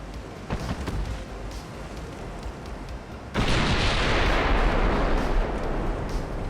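Naval guns fire in Ultimate Admiral: Dreadnoughts, a few distant thuds giving way to a loud, sustained roar of heavy gunfire and explosions in the second half, with no speech.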